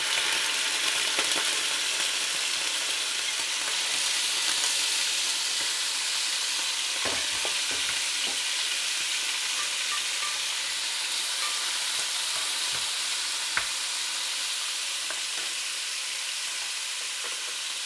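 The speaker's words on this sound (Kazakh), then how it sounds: "Майымызды құйып, ет пен пиязды қуырудан бастаймыз." Steady, close sizzling and crackling of food frying in hot oil, with a few clinks of stirring scattered throughout.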